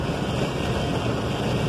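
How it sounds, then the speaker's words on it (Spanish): Strong wind roars steadily across an open outdoor spot near Gila Bend, Arizona, a loud, continuous broadband rush buffeting the microphone with no let-up and no voices. "Mucho viento, mucho viento."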